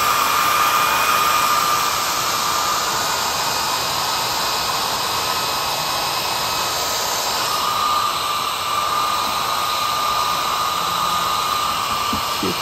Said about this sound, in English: I've got my little blow dryer here.